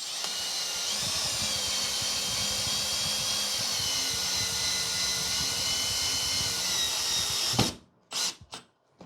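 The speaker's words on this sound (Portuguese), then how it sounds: "vou colocar aqui no modo de perfuração e vamos ver" A cordless drill-driver set to drilling mode whines steadily at high speed, loud and close, for most of the stretch, then cuts off abruptly and is followed by a few short clunks and handling knocks.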